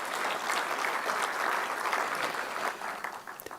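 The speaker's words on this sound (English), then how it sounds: "Let's have a big round of applause for Dr. B.M. Hegde." An audience gives a speaker a big round of applause, a steady wash of many hands clapping at moderate distance, fairly soft overall and tapering slightly toward the end.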